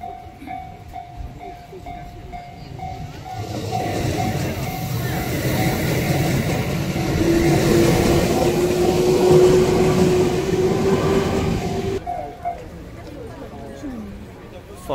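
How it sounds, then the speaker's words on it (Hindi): A train rumbles past a closed level crossing in Japan, with a steady crossing bell ringing before the rising roar of wagons builds, holds, then cuts off as the bell fades; a voice speaks over it. "ये ट्रेन जा रही है"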